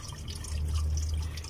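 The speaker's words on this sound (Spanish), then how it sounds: "ahí sigue saliendo ahorita agua todavía, o anticongelante," Green antifreeze coolant trickles and drips steadily from a Nissan Nitro's cooling system as it drains during a coolant change, a continuous close liquid splashing with a low hum beneath.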